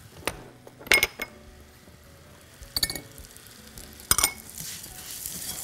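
Vermicelli stirred in a pan with butter and oil, heard as a few sharp metallic clinks and scrapes of a utensil against the pan over a faint, low sizzle.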